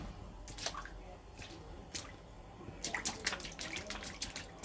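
Sewage water backing up into a flooded house gives off wet squelching and dripping sounds in irregular bursts, fairly quiet and close, with a thicker flurry of splashes near the end.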